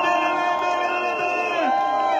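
A large crowd at a political campaign rally in Franceville, Gabon, for candidate Oligui Nguema cheers and shouts in a dense, loud roar, with voices whooping and rising over the sustained din.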